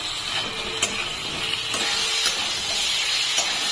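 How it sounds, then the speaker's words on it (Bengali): Potatoes fry with spices in oil in a pan, a steady close hiss and sizzle with a few small pops and clicks over a few seconds. "আলুটা সুন্দর করে ভেজে নিয়েছি মশলা দিয়ে"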